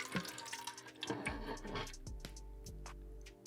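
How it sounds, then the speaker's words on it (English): Water dripping and trickling from a Stanley cup into a bowl, with splashy drips and a brief pouring gush at close range, followed by a few scattered single drops. "Still dripping."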